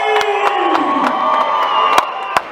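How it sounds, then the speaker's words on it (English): A crowd cheers and whoops loudly at a kids' Muay Thai fight event, a continuous roar of voices with a few sharp claps or shouts standing out. "Make some noise if you're ready!"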